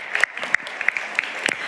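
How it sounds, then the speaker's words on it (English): A conference audience at a European cooperation event gives a short burst of applause, scattered sharp claps over a steady patter. "You may give them a very, very warm round of applause."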